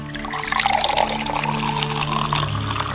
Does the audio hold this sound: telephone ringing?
no